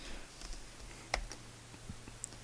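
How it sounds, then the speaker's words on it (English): Sparse, quiet keystrokes on a computer keyboard as code is typed into a SAMP gamemode script, a few light clicks spaced irregularly with one sharper tap midway. "Then you're going to type in"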